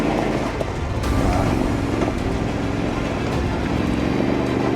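A Yamaha Tenere 700 motorcycle climbs an off-road uphill in Bosnia, its engine a continuous, steady drone mixed with heavy wind buffeting against the microphone, close and loud throughout.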